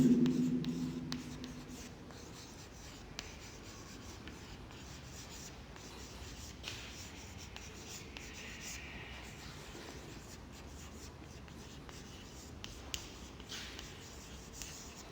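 Chalk or marker scratching across a board during a polynomial lesson, a soft, steady scribbling texture running throughout, with a voice speaking over it at the start.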